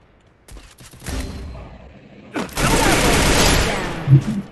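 Gunfire in a squad battle video game, loud bursts of shots that build from sparse cracks into a dense sustained volley, with a sniper firing in the mix and voices chattering faintly underneath.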